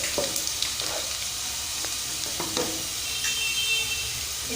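Cumin seeds sizzle in hot oil for aloo pulao, a steady close crackle broken by a few sharp pops and light stirring clinks, with no talk.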